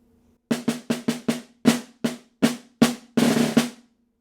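A snare drum plays a short etude measure: a run of crisp, evenly spaced strokes with flams, then longer buzz rolls, each hit sharp and close, with no talking.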